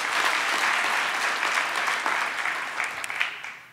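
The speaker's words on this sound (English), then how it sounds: "let's give them a big round of applause" Sustained applause from a graduation ceremony audience at a university campus, broad and steady throughout before tapering slightly at the end, with no talking over it.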